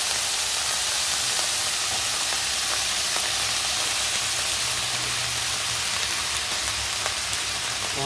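Brinjal pieces fry in a hot tempering for a curry with jackfruit seeds, making a continuous, even crackling sizzle close by with faint stirring ticks.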